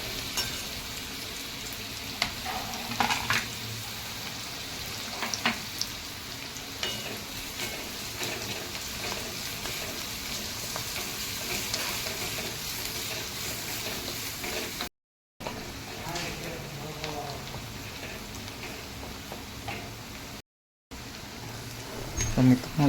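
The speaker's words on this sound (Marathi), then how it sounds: "कांदा मस्तपैकी असा लाल होईपर्यंत चांगला परतून घ्यायचा" Onion and garlic fry in oil in a pan while being stirred, giving a steady close sizzle with occasional scrapes, broken by two short silent gaps.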